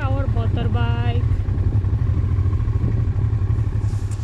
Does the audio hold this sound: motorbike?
yes